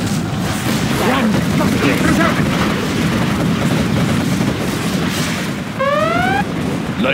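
Cannon fire and explosions in the real-time strategy game Command & Conquer Generals Zero Hour, a dense continuous barrage of booms and blasts with game sound effects layered over it, loud throughout.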